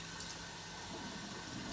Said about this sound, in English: run water, we do it sideways like that, and you can see that the water is coming out the holes fine